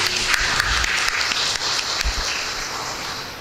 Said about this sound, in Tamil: கைத்தட்டி அன்போடு அவரை வாழ்த்துவோம்.